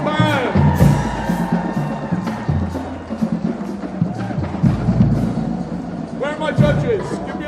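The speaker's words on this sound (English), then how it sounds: "Round of applause for Huntsville High School Marching Band." Street crowd at London's New Year's Day parade cheering and whooping for a marching band, a loud, continuous roar with scattered shouts and voices mixed in throughout.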